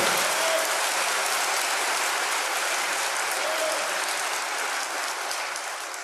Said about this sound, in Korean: 알겠다는 사람 박수하라고